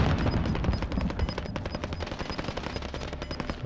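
Rapid automatic fire from an SA87 in Call of Duty: Warzone, a long steady string of sharp, evenly spaced shots close by and loud, with no talking over it.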